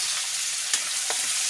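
Potatoes and cut onions frying in a pan, a steady soft sizzle with two brief scraping clicks of a spoon stirring them, fairly quiet and without voices.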